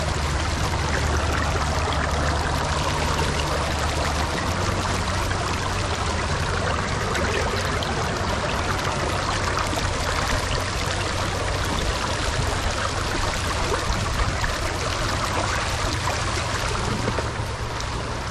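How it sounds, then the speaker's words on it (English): Loud, continuous roar of river rapids rushing over rocks, a dense wash of water noise that stays steady and unbroken throughout without letting up. "I don't know if it's hard to hear me with all these rapids going around here"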